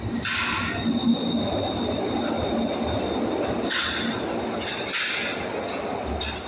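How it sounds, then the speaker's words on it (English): Glasgow Subway train 311 pulls away from Buchanan Street on the Outer Circle, its steady rumble of rolling wheels broken by sharp metallic squeals and clinks, loud and close, with no one talking over it. "leaving now is train 311 off from the outer circle"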